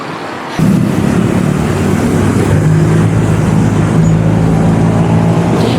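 Motorcycle and cars passing on a city street in Malaysia, a steady loud road roar that starts abruptly and holds close by, with engine drone throughout and no talk.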